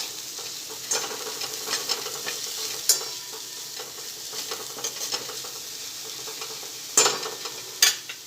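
Green onion greens sautéed in a pan for Kathiyawadi bharelo rotlo: a steady frying hiss with repeated stirring scrapes and a few louder clinks of the spoon, heard close and without voices.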